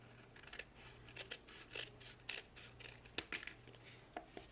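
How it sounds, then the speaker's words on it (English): Scissors trimming the edges of printed French newspaper paper for a small junk-journal book, giving a series of short, close, quiet snips and rustles with no talking. "so I'm going to trim that off"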